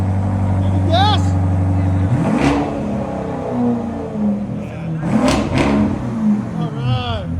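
A straight-piped 2019 BMW X5 M50i with a 4.4L V8, revved hard with rising and falling engine roars and sharp exhaust blips, loud and close, with voices talking over it.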